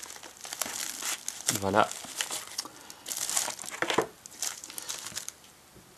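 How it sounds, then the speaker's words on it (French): Box of a Rii Mini8 wireless keyboard being opened, with crisp crinkling of packaging in several close bursts of rustling, while someone speaks briefly once. "On va commencer par ouvrir la boîte."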